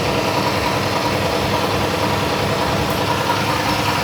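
A Subaru WRX turbocharged engine idles steadily after a clutch job, a loud, constant low rumble with even vibration and no talk.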